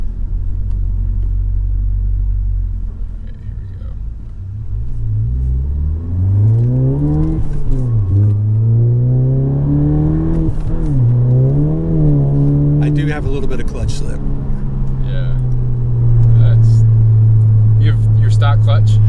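Volkswagen GTI with a suitcase muffler accelerating from inside the cabin, a deep rumble climbing and dipping through shifts before settling into a steady drone, loud and close, with brief voices over it.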